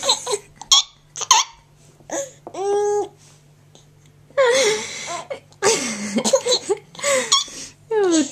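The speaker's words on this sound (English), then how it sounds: "It's Mummy's hiccups." A woman's sharp, voiced hiccups break out repeatedly among a baby's babbling and giggles, close by in a quiet home, with short spoken moments in between.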